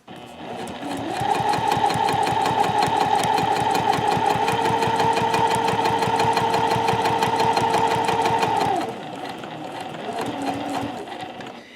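A sewing machine stitches fabric in a fast, steady mechanical whir with a rapid needle clatter, running continuously for several seconds before slowing to a softer pass near the end.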